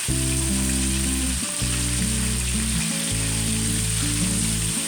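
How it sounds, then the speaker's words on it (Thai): Chopped garlic and pork frying together in a pan give a loud, dense, steady sizzle close-up. A strong low droning hum runs underneath, and no one talks. "เอาอันกระเทียมซับใส่กับหมูเลย เวลาผัดเราก็เอาลงพร้อมก ัน"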